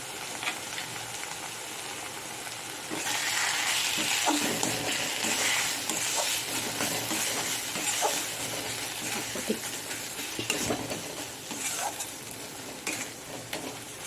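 Tomatoes fry in a pan with salt and turmeric for a fish and potato curry, giving a steady sizzle that swells louder partway through. Scattered stirring scrapes and clinks break over it.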